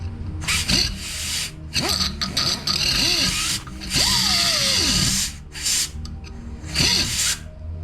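A power tool cuts metal stock for a homemade linear-stretching pneumatic hammer. The loud whining motor rises and falls in pitch across several bursts separated by brief pauses.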